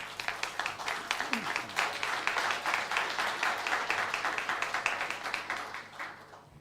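Steady applause from an audience at a launch event welcomes two speakers, many hands clapping together in a moderately loud, even wash that tapers off near the end.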